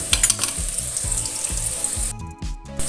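Sliced shallots stir-fry in a pan for an Indonesian bitter gourd dish, a loud steady sizzle broken by regular scraping strokes of the spatula roughly every half second.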